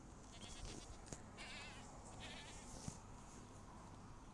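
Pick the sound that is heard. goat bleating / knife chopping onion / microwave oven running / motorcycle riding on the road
goat bleating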